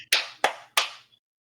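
Three sharp hand claps, close and evenly spaced about a third of a second apart, each with a short bright ring-out, heard alone with no talking.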